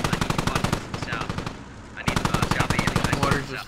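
Rapid bursts of automatic gunfire from mortars, MTLBs and a BTR in a video game, close and loud with a brief lull before the rattling fire resumes, a voice faintly talking underneath.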